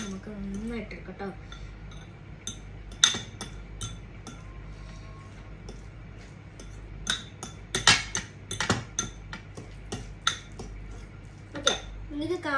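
A spoon clinks and scrapes repeatedly against a bowl while food is mixed, irregular sharp metallic taps scattered over the whole stretch, with someone talking in the background.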